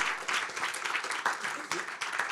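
An audience at a startup challenge event applauds to welcome a KPMG partner onto the stage, a dense, steady patter of many hands at moderate level with faint voices mixed in.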